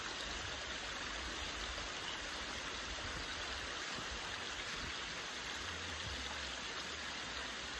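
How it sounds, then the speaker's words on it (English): A small waterfall on the trail to Breakneck Pond gives a constant, close rushing roar of falling water that stays even and unbroken throughout, with no voices. "there's this wonderful little waterfall here"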